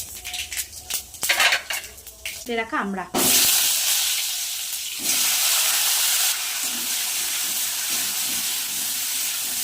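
Panch phoron hits hot oil in a kadai and erupts into a loud, steady sizzle after a few seconds of brief talk and utensil clatter, with the hiss continuing strongly to the end.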